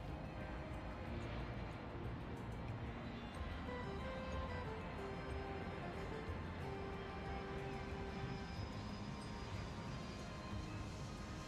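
Aircraft in the airport management game Airport CEO produce a steady droning engine hum with a faint whistling tone that slides in pitch, unbroken and without talk over the whole stretch.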